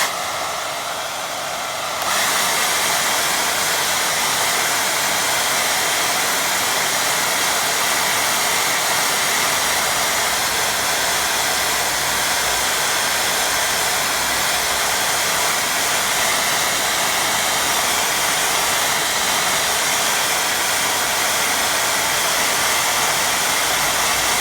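Hair dryer blowing steadily on a watercolour painting, a loud continuous whooshing roar that switches on after a moment and runs unbroken.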